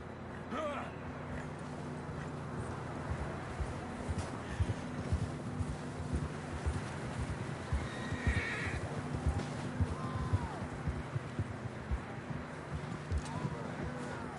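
A horse neighs and whinnies in the western video game Red Dead Redemption, sharp calls rising over hooves clip-clopping and a busy outdoor game soundscape.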